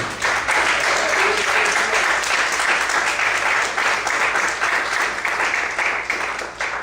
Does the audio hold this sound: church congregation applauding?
yes